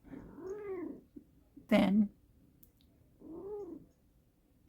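A house cat lets out two drawn-out, moaning meows a couple of seconds apart, close and fairly quiet, with a brief sharper noise between them and a few words of speech.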